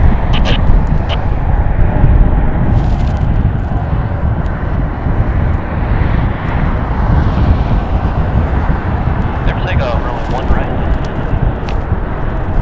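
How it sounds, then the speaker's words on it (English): A Delta airliner, a Boeing 757 at Las Vegas Harry Reid International Airport, rolls down the runway for departure, a steady broadband engine roar filling the scene with faint voices and wind underneath. "Delta's rolling down the runway as we speak"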